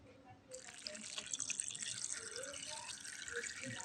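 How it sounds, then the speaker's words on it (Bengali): Water pours into a cooking pot of duck curry seasoned with salt, turmeric, chilli powder and mustard oil, a faint splashing stream that begins abruptly and runs steadily to the end. "তারপর অ্যাড করছি পানি"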